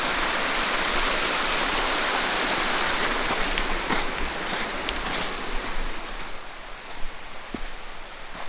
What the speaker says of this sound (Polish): Zobaczcie tylko, jak woda płynie. Po prostu cieknie z tych schodów,